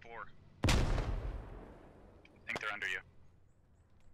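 A grenade explodes in a squad-based shooter game, one loud sharp blast that decays over about a second, followed by a short burst of gunfire, with a voice speaking before it.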